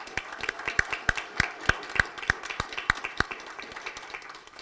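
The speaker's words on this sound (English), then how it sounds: "so let's give her a round of applause for that" Sparse clapping from a small audience at a Women's History Month celebration: about a dozen distinct, evenly spaced claps, fairly faint, with no voices over them.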